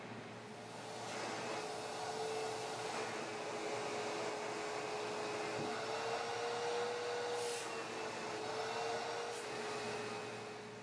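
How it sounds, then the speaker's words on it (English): A vacuum cleaner runs steadily as it cleans a black foam filter and a white felt filter, making a continuous, even whir with a faint whine that holds throughout. "vacuum off the black foam filter followed by the white felt filter"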